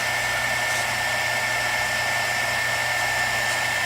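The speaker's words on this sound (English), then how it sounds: "I'm just going to heat emboss it." A heat gun blows hot air over holographic embossing powder, producing a continuous loud, steady whooshing hum with no pauses and no voices.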